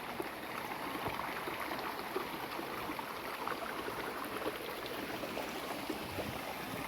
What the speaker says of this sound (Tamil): சூப்பராக இருக்குது பாருங்கள் ஓடை